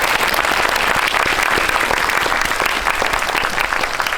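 An audience at a Korean film event applauds, dense continuous clapping from many hands filling the room at steady volume throughout.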